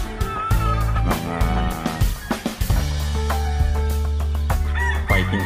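A fighting cock crows loudly and repeatedly, its harmonic calls overlapping with other steady tones in a busy, close-up setting.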